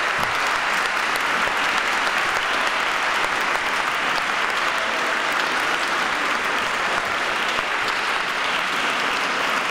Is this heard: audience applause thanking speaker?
yes